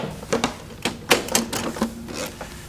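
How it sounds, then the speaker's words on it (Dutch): A Betamax video cassette recorder ejects a tape, giving a series of sharp mechanical clicks and clunks at uneven intervals, close and fairly loud, with no talk. "Compare ejecting a tape on the Betamax to the VHS."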